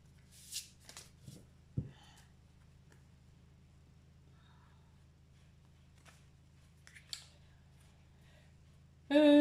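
A deck of tarot cards is shuffled and cut, producing soft brief riffles and flicks with a couple of sharper taps, quiet against a low background hum, ending in a louder burst of sound.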